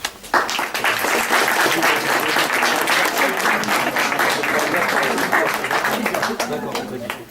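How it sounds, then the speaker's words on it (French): Sustained applause from an audience at a First World War centenary commemoration in Montauban, a dense, steady clapping that fills the whole stretch at close range before easing off at the end. "peut-être les applaudir et les remercier pour leur investissement"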